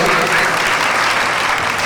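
A crowd gathered at a tribal children's folk dance event applauds loudly, a thick continuous wash of clapping filling the whole short moment.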